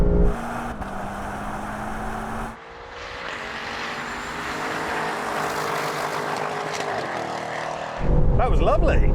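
Engines of an Audi RS6 GT, BMW M5 CS and Mercedes-AMG E63 S drone steadily during a drag race, heard from inside one car under accelerating engine noise, with a gear shift dip and a person talking.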